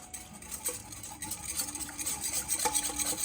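Steady clinking and scraping of a whisk against a bowl while olive oil is drizzled into a salad dressing, close and continuous, with faint kitchen clatter around it.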